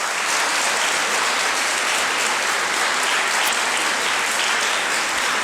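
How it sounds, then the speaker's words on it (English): A dense, steady wash of applause from an audience for a food sponsor at a student debate competition, loud and continuous with no talking. "So please, round of applause for Just Food"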